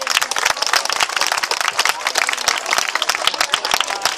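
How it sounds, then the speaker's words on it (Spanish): A crowd at a World Vision club gathering applauds steadily, dense overlapping claps filling the space without pause, fairly loud and close. "Un fuerte aplauso, por favor."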